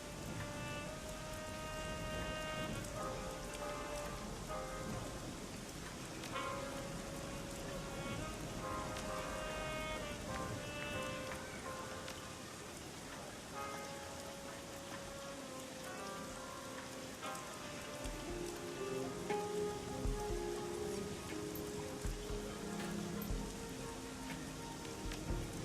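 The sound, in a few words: heavy rain falling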